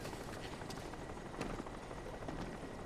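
Rotor chop and engine drone of a helicopter in the video game Crysis Warhead, a quiet, rumbling hum that carries on steadily throughout, with a faint swell near the middle.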